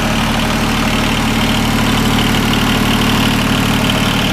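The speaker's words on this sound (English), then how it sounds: "It's got the Yanmar diesel engine" A John Deere 850 tractor with a Yanmar diesel engine idles steadily close by, a loud, even low throb with a constant mechanical rattle and no pauses or voices.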